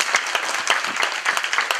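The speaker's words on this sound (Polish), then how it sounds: "Duże brawa" Lively clapping from a village audience at a Christmas carol performance, with individual claps audible as rhythmic bursts, fairly close and loud, short and continuous.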